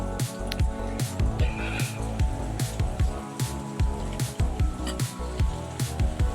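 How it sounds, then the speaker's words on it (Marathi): Mutton masala with added water is stirred in a cooking pan, a continuous wet bubbling, squelching mix with repeated scraping strokes, close and loud with no talk. "आणि मम्मी एकदा हलवून घेत आहे"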